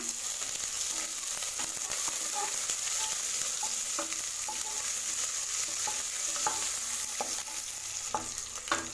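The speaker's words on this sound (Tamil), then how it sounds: "சேர்த்துட்டு இதை லேசாக வதக்கி விடுங்க" Long-sliced onion and green chillies sautéing in a pan, a soft continuous frying sizzle with occasional stirring taps and scrapes from a spoon, fairly quiet and close.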